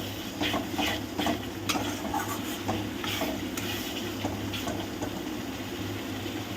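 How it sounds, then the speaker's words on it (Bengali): Spice masala stirring and frying in oil for a spicy red egg curry, a steady close sizzle with repeated scraping strokes of a spoon against the pan throughout. "চলো মশলাটা ততক্ষণ কষিয়ে নেওয়া যাক"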